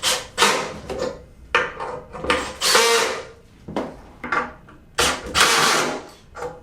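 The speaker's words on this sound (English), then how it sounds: "we're going to finish running our set screws in" Set screws are driven into an LMCurbs SD-1624 snow diverter with a hand tool, making a series of close, scraping, ratcheting bursts separated by short pauses. The bursts are fairly loud and gritty, and no one speaks over them.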